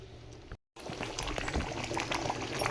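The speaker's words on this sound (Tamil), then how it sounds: "நல்லா கொதி வருதுங்களா தெரியுதுங்களா" Chicken gravy bubbles in a pot with a continuous gurgling, pouring-like boil, close and fairly soft, broken by a brief moment of silence near the start.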